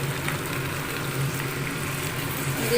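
Goat mutton frying in a pan, a steady low sizzle and crackle, fairly soft and continuous with no talk.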